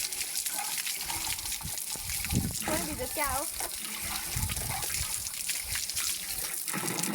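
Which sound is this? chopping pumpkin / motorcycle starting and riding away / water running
water running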